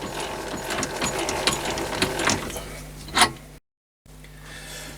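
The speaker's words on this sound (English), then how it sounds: "wind the spindle to get the tool back far enough" A lathe spindle is wound back by hand during screw thread cutting, giving a close, rhythmic mechanical ticking and whirring with one louder clack before a brief silent gap.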